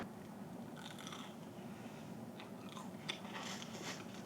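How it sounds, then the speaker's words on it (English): Faint, close crunching and chewing of crunchy pepperoni pizza in a hotel room, a few soft crackly bites over a low background hum. "I like that the pepperoni is like nice and crunchy. I don't know if you heard that crunch"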